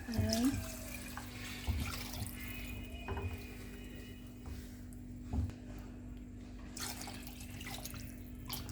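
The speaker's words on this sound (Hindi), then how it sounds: "अब हम इसमें ना पानी ऐड करेंगे।" Water is poured into a pan of chicken and pea curry, a close splashing trickle over a steady low hum, with a few louder clatters and bits of talk.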